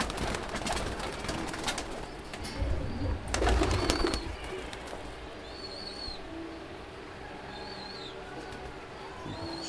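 Andhra female pigeon cooing softly amid a busy background of rustling and handling noise, with a few faint higher calls later on; a louder burst of handling comes partway through.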